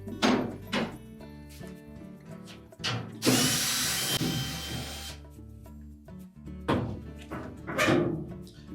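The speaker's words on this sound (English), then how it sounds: "take the two 5/16 screws out to secure the front panel to the washer cabinet" A power drill backs 5/16 screws out of the front panel of a Whirlpool washer, with several short whirring bursts, a longer loud spin in the middle and clunks in between, all close by.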